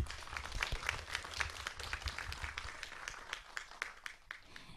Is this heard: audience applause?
yes